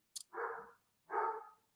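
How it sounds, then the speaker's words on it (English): A dog barks twice in the background of a quiet indoor room, two short, fairly faint barks about a second apart, heard alone without talking. "excuse the dog barking in the background."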